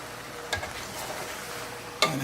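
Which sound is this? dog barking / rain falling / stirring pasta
stirring pasta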